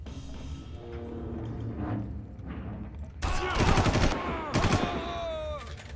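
Gunfire in the Far Cry video game: a loud burst of several sharp shots midway, then more shots shortly after, following a stretch of quieter game ambience.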